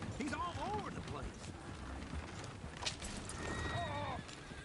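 Horses pulling a coach neigh and whinny repeatedly over clip-clopping hooves and rattling harness, with a voice muttering underneath, fairly faint and distant.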